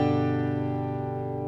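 A single guitar chord from a song is strummed once and left to ring, close and sustained, decaying slowly with no talk.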